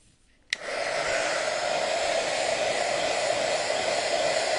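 A hair dryer switches on with a click and then blows a loud, steady whoosh, drying pink and white paint on a snowman craft.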